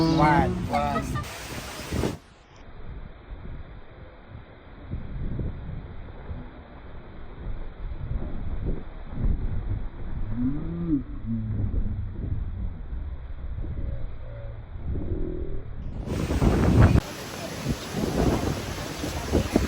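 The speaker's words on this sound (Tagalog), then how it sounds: "Super lakas ng hangin." Gusty wind buffets the microphone with low rumbling bursts on a beach in Boracay, while people talk through and over the noise.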